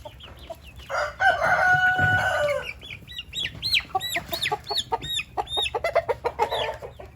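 A rooster crows loudly up close inside a chicken coop, followed by a flurry of chickens clucking and squawking in quick, uneven bursts.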